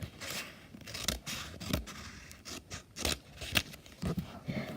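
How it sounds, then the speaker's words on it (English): Scissors snip repeatedly through paper, cutting out triangles for paper beads, in a series of short, crisp cuts with uneven rhythm and faint rustling between them. "So you just want to cut all these triangles"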